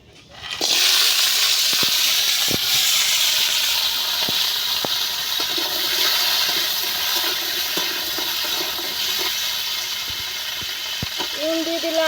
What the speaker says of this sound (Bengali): কাঁকড়াগুলো ভেজে নেব।